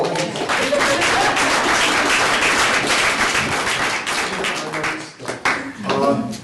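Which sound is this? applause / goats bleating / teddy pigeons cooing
applause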